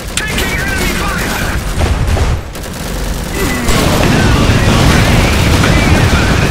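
Gunfire and explosions from the Iron Harvest real-time strategy game, dense continuous volleys and booming blasts, loud and close, with a brief lull midway before the barrage resumes, under shouted unit voice lines.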